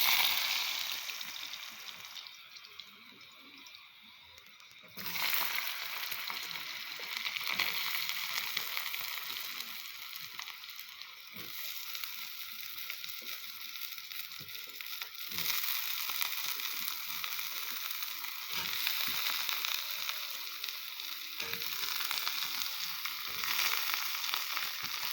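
Potatoes frying in oil with cumin, a steady hissing sizzle that rises sharply as they drop into the pan, then holds close and soft with faint crackles, and no voices.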